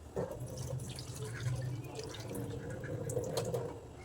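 Water splashes and trickles steadily as it is poured out of a pot of tomatoes into a sink, with a continuous running flow throughout.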